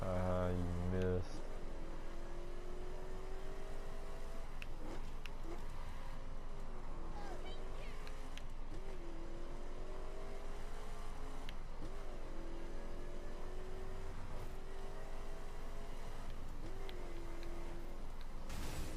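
In The Crew, a car engine drones and revs in a rising and falling pattern, shifting through gears again and again, sustained at moderate volume for the whole stretch.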